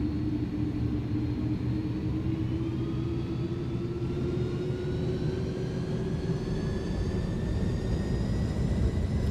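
Two jet engines of an iniBuilds Airbus A310 in Microsoft Flight Simulator spool up to takeoff power: a steady, loud roar with rising whine tones climbing gradually over the whole stretch, continuous and unbroken.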